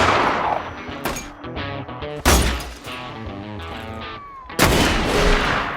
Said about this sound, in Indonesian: Tony menyerahkan sebuah pistol Colt Double Eagle kepada Costello. Tanpa ragu, pria tua itu langsung melepaskan tembakan